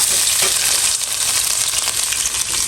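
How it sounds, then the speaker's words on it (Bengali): Tangra fish and tomatoes sizzling together in a hot pan, a loud, steady frying crackle with bright spattering, heard up close and without speech. "আমি এখন এই যে ট্যাংরা মাছটা টমেটো দিয়ে বসাবো।"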